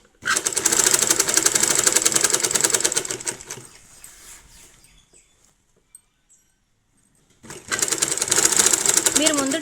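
Domestic sewing machine stitching a fall onto the border of a cotton saree, running loud and steady in two long bursts separated by a quiet pause.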